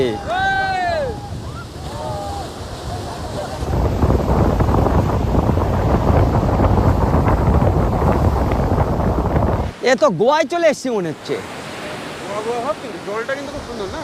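Sea waves wash in steadily along Sonapur beach in Odisha, a loud, broad surf roar that builds and holds for several seconds, with people talking before and after it and some wind buffeting.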